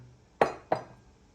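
Two sharp clinks of Druzhkivka porcelain tea set pieces, a quick pair of bright taps about a third of a second apart, with a short ringing decay.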